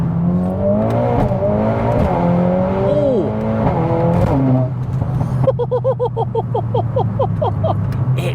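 A Mercedes-AMG A45S accelerates hard, engine note climbing through several rising sweeps with quick gear changes, then rapid pulsing crackles from the exhaust, loud and close.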